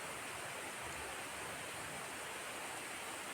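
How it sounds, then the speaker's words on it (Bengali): Heavy rain pours down on a flooded neighbourhood, a loud, steady wash of water that fills the space evenly with no pauses and no voices. "খুব শব্দ পানির"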